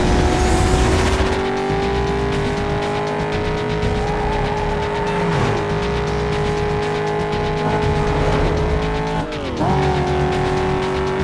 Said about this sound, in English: Bit of sliding again, like I did in the Chevrolet Cobalt SS.